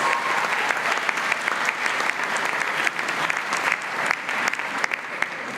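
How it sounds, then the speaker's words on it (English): Graduation audience at a Murdoch University ceremony in Dubai bursts into sustained applause, dense steady clapping from a large crowd, fairly loud and continuous throughout with no voices on top. "That deserves a round of applause."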